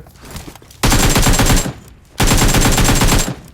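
PUBG Mobile automatic gunfire, two loud, close bursts of rapid rifle shots, each lasting under a second or more, separated by a brief pause, with faint background noise between them.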